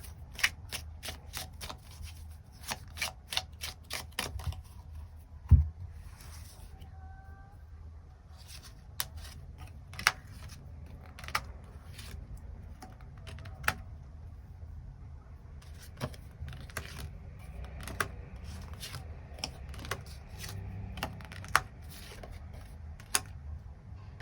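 Tarot cards are shuffled and drawn by hand close to the mic: long runs of rapid riffling flutter, then soft slides and taps as single cards are laid down, quiet and with no talking.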